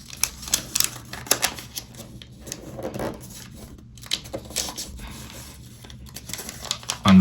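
Origami paper crinkles and snaps in quick bursts as a sheet is unfolded, rotated and creased corner to corner, dry rustles and taps close by with short pauses between.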